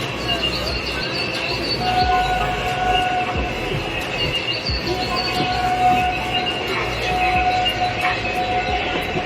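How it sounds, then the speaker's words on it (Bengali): A moving passenger train rolls along its rails toward Krishnanagar station, with a constant rumbling wheel clatter, faint squeals and a steady tonal hum heard from inside the carriage throughout. "আমরা ট্রেনে করে যাচ্ছি, ট্রেন ছেড়ে দিয়েছে"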